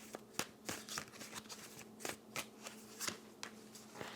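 Tarot cards being shuffled in quick, crisp riffling bursts, repeated irregularly at close range with no talking over them.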